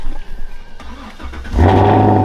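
A Camaro ZL1 engine cranks and fires up at close range, settling into a loud, steady, deep idle rumble.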